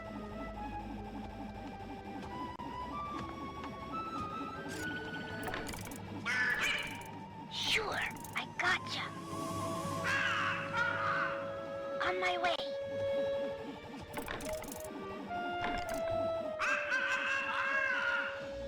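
In Sly 3, Bentley gives a bird call, heard as squawking, cawing calls rising among game music and effects, while a character briefly speaks.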